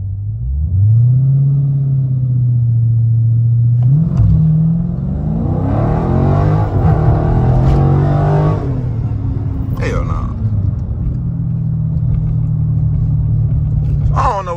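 A Dodge Charger 392 Scat Pack's V8 idles with a deep rumble, then revs hard through a surging mid-clip climb before settling back to a loud, steady idle, with someone talking over it.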